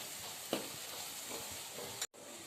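Red chili powder, homemade black masala and turmeric frying in hot oil for a fenugreek dal amti, with a steady close sizzle and brief stirring scrapes and a short break near the end.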